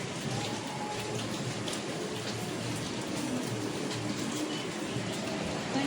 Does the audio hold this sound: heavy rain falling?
yes